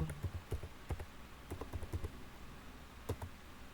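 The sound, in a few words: typing a command on a computer keyboard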